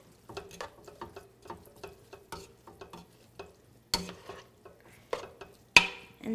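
A spoon stirs turkey chili with beans and mild tomatoes in a cooking pot, a quiet rhythmic series of soft scrapes and clinks with a few sharper knocks against the pot, close and alone.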